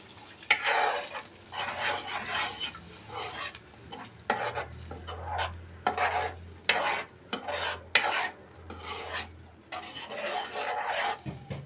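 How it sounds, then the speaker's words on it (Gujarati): A spoon stirs and scrapes through milk and masala in a pan for dudh sev masala, rhythmic swishing strokes with soft sizzling, close and fairly loud, with no talking. "હવે આપણે પાછું દૂધ નાખી દઈશું અંદર"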